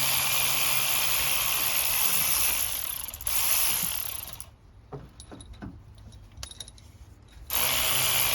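A ratchet wrench backs bolts out of a 350 small block engine during teardown: a steady clicking ratchet whir at first, then quieter spaced metallic clicks and taps before the ratcheting resumes.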